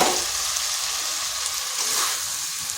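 Potatoes and soybean chunks fry in spiced oil in a wok, a loud close continuous sizzle with steady hissing crackle and no talking.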